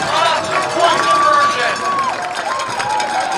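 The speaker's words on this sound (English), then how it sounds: "Listen to that crowd and tell me that this is not a football school." A high school football crowd at a Ludlowe vs Norwalk game roars steadily after a touchdown, a dense, continuous wash of cheering and babble with a voice rising above it.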